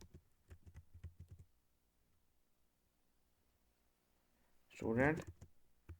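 A quick run of keystrokes clatters on a computer keyboard while HTML is being typed, then a pause and a brief spoken voice.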